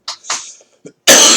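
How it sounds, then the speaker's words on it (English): A person coughs two or three times in quick, raspy bursts, close and fairly loud, separated by short silent breaths, before a sudden loud broadband noise cuts in at the end. "It just so happens that there's a reason why I have this cough."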